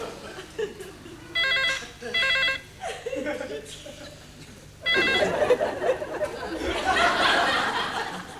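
A telephone bell ringing in a sitcom scene, two or three bursts of rings close by, with people talking and some laughter between and after the rings.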